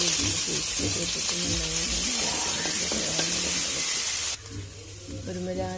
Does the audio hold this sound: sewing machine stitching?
no